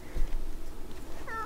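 A cartoonish cat meows once, short and clear, near the end of a video-game scene from The Sims 4 with a low background hum.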